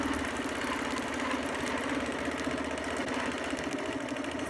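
A sewing machine stitches a clamshell quilting design on a quilt, giving a steady, continuous mechanical whir at an even level throughout, with no pauses and no talking.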